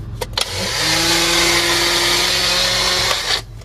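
A mixer grinder runs inside a car off an inverter setup, its motor whining steadily and loud for about three seconds after a couple of clicks, then cutting off.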